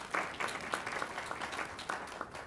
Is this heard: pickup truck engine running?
no